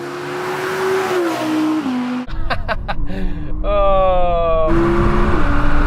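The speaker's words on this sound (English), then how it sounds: "electric car instant response" Audi e-tron GT electric car launching hard in a drag race against an R8, a loud, close electric whine climbing in pitch over road and wind roar.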